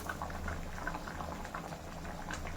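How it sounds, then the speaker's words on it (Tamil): Chicken gravy boils in a pot, a steady close bubbling and popping simmer, moderately quiet and continuous without talk. "சிக்கன் கிரேவி நல்லா கொதிச்சு நிறுது"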